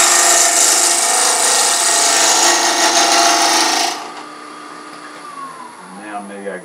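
A woodturning lathe spins cherry burl while a small 3/8 inch gouge cuts, giving a loud, steady whirring rasp for about four seconds before dropping to a quieter hum with faint scraping.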